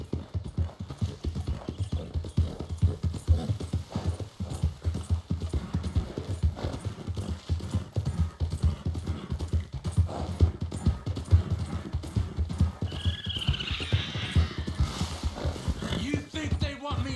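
Horse hooves clip-clop in a steady walking rhythm in the Western video game Red Dead Redemption 2. The hoofbeats are close and continuous, with faint ambient sounds and brief higher tones near the end.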